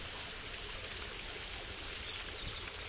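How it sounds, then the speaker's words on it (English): Small light waterfall on a stream flowing from the Downs through a park, a steady soft wash of trickling and splashing water, continuous and fairly faint, with no voices. "a light waterfall"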